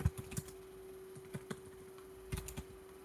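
Soft, sparse keystrokes on a computer keyboard while typing a heading in a code editor, a few scattered clicks and short bursts at close range, quiet, with a steady faint hum underneath.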